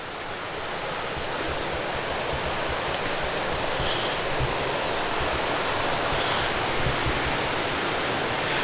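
Spring water gushes steadily beside an old mill with a 20-foot water wheel in Oregon County, Missouri, a loud, even broadband rush that holds nearly constant from start to finish with no voices.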